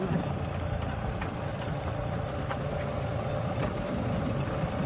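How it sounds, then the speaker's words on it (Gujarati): A steady low tractor engine rumble idles continuously with no pauses, sitting close and fairly loud throughout, beside a farm field. "ફાઇનલી ટ્રેક્ટર આવી ગયું છે."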